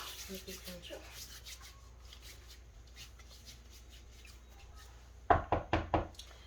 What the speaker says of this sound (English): I will do my hand hygiene and knock